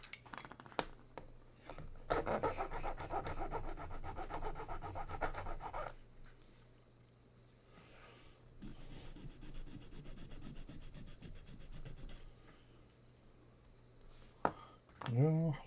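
Two long bouts of rhythmic rasping as a hand file scrapes back and forth over metal, flattening it before drilling, separated by a quieter pause, ending with a clatter.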